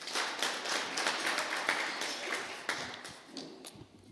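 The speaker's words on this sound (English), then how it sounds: "Can we please give the Chairperson another round of applause?" Audience applause for the chairperson at a census regional profile release event in Otjozondjupa, a dense burst of many hands clapping steadily indoors, moderately loud and sustained throughout.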